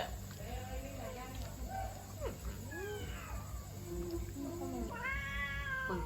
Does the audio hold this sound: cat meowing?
yes